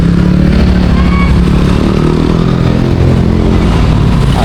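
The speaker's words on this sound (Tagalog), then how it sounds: "Kay nay mga sakyanan po diri kusog dagan diri mga sakyanan." Fast cars and motorcycles rush along a busy Cebu City street at night, a steady loud wash of engine drone and tire rumble with no break, heard up close.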